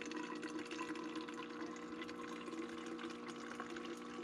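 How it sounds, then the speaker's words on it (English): Water runs steadily from a battery-powered water tap into a bottle, a constant soft gurgling rush with no pauses. "I'm just going to top up my water bottle for now."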